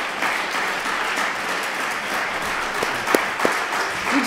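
An audience applauds lecturer Dr. Montero after a talk on the murder of Emmett Till, steady moderate clapping with a few sharp individual claps standing out near the end.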